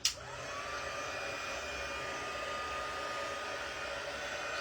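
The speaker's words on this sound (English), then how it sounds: "And my heat tool." A handheld craft heat tool blows hot air in a steady, even whoosh-and-whine right after a click at switch-on, continuous and close with no talking.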